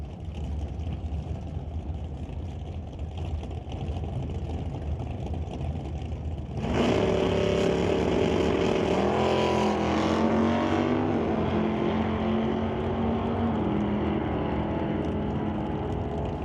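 Drag race cars, a Monte Carlo and a 1991 Ford Mustang Fox Body, running a quarter mile: a steady engine drone, then a sudden loud surge of roaring, rising engine howl that holds to the end.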